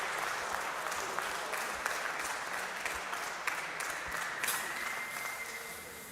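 Steady applause breaks out for the winner of the British Rental Kart Championship, a sustained crowd of clapping hands with a few sharper claps standing out, heard fairly faintly at a distance.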